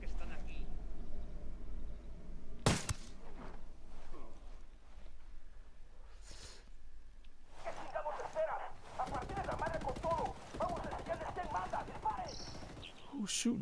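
Sporadic gunfire in Ghost Recon Wildlands: one sharp, loud crack early, then scattered shots and busier bursts later, with people talking intermittently over a quiet background.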